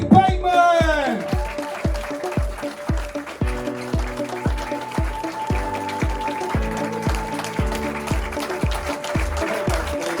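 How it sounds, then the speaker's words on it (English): Crowd of spectators clapping steadily at a martial arts belt grading presentation, close and sustained, with a speaking voice heard at the start. "Let's have a big clap, please."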